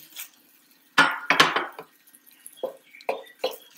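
Colocasia (arbi) pieces dropped into a pan and tossed in roasted spiced flour, giving a cluster of sharp clattering knocks and scrapes followed by softer intermittent taps of a spoon against the pan.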